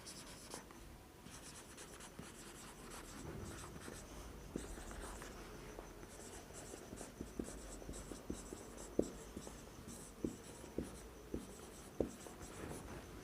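A pen scratches steadily across a notebook page, with short strokes and sharper taps as numbers are written, close and fairly quiet with a faint room hum and no talking.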